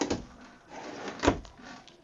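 Drawers in the bathroom of a Georgetown 36B5 bunkhouse RV slide open and shut, giving a quick soft knock early and a sharper thud near the middle against a quiet room.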